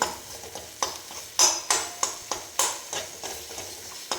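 Tomatoes with chili and salt are stirred in a frying pan, a spoon scraping in repeated strokes about every half second over a soft, steady sizzle, close up with no talking.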